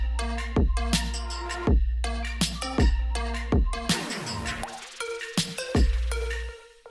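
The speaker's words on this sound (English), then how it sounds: "So the mind-blowing trick is a transition effect, and it sounds like this." An EDM transition effect in electronic music production: punchy beats and stabs, then a sweeping downward swoosh in the middle, before the groove returns, loud and alone.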